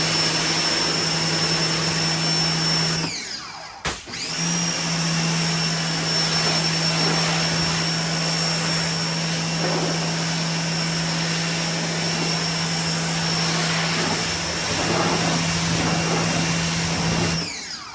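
Pressure washer spraying through a 5.5 nozzle as part of a triple pressure washer setup, a loud, constant roaring hiss with steady pump drone that cuts out briefly near the start, then runs on without talk.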